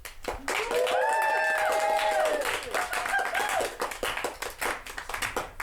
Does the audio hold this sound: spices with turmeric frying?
no